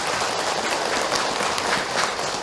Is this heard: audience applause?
yes